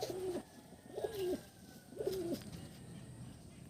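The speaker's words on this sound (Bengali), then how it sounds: "এটা আন্দ্রা সবুজ পায়রা আছে" Andhra pigeons cooing in a loft, three clear rolling coos spaced about a second apart, close and moderately loud over a low background hum.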